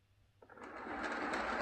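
Lima Class 55 Deltic model locomotive with a CD motor conversion running on a layout, a steady close whirring hum that starts after a brief quiet and builds to a constant drone.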